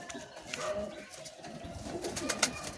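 Pigeons with orange eyes coo repeatedly at close range, a steady murmur of soft calls with a few sharper chirps and light rustling, no voices.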